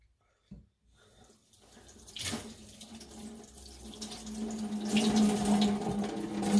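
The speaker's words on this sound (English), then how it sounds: "washing off a little bit of that" A kitchen sink tap runs while something is rinsed off during fried chicken prep. It starts with a brief clunk and a splash, then the water stream swells steadily louder and fuller toward the end.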